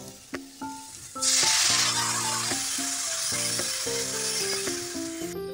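Cauliflower and potato pieces sizzle loudly with spices in a hot pan, a bright steady frying hiss that swells after a few light clinks of a utensil, with intermittent metallic scraping as the mixture is stirred.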